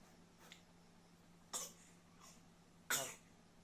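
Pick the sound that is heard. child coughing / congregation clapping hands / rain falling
child coughing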